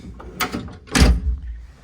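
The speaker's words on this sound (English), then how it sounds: "And then if we close the door," The door of a 1969 Datsun 2000 Roadster swings shut from inside the cabin, a low, close thump preceded by a softer mechanical rattle of the latch and hinge.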